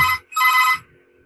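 An office telephone rings nearby with two loud electronic trills and a short gap between them, followed by a faint, low murmur.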